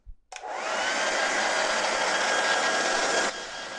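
A hair dryer blows steadily on wet paint during a painting demo, switching on abruptly and holding a loud, even, close-up whir for about three seconds before cutting off.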